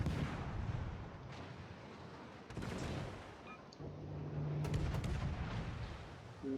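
Warship main guns firing high-explosive shells in World of Warships, heavy booming salvos and rumbling impacts layered over continuous low engine and sea rumble, with a few sharp cracks toward the end.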